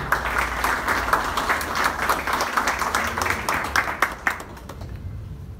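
Audience applause at the opening ceremony for the table grape export season in Ica, a continuous crowd clapping that holds steady and then fades out toward the end.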